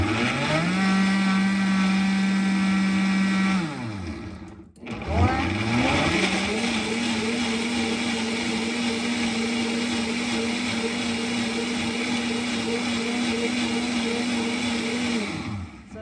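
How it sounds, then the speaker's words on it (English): A kitchen blender whirs loudly through salsa verde, one steady motor drone that stops briefly, then starts again and runs evenly until cutting off at the end. "We're gonna blend it really, really quick, guys."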